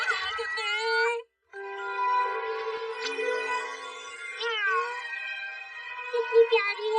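A cartoon cat gives a long series of high, wavering meows, several drawn-out cries with a short break near the start, loud and close with no other voices.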